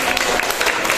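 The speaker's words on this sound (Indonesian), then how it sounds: "tepuk tangan dulu untuk kelompok 3" Classroom applause for a group of students during a teacher-training lesson, a brief burst of dense clapping from many hands, fairly close and continuous.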